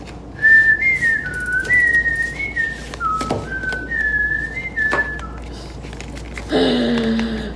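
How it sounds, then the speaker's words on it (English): A person whistles a wandering tune of sliding, held notes, clear and close, with a short burst of other noise near the end. "It's just a whistle."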